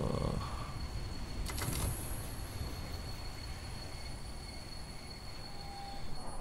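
In the Train Sim World 22 video game, a train eases into a small platform with a steady low rolling rumble. A brief high screech of squealing wheels comes near 1.5 to 2 seconds, and a faint thin squeal follows later.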